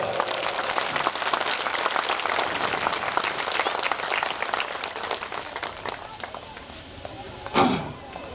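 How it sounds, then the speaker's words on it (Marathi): Audience at a temple anniversary kirtan clapping loudly for the performer, sustained applause that fades toward the end, followed by a short knock or thump. "एकदा महाराजांसाठी सर्वांनी हात वर करून जोरदार टाळ्या वाजवायच्या आहे."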